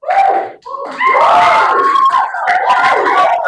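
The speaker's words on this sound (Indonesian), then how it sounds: "Okay, applause please." Classroom of students loudly cheering and shouting together after a group's English descriptive-text presentation, a dense burst of many young voices with some clapping, sustained for a few seconds close by.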